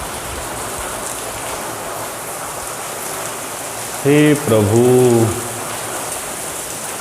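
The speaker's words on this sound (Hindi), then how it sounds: "बारिश बहुत खींच के आ रही है, परेशानी हो रही है।" Heavy rain pours down steadily as a dense, even hiss that lasts throughout, with someone briefly speaking over it partway through.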